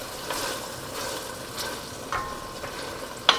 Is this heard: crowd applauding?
no